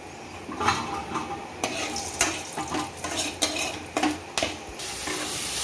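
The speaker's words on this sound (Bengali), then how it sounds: "এবার তেলে তেজপাতা আর গরম মশলাটা ফোড়ন দিয়ে দিলাম" Bay leaf and garam masala tempering in hot oil, a soft sizzle under clinking metal spoon strokes against the pan, several sharp stirring scrapes spaced irregularly, with no voices.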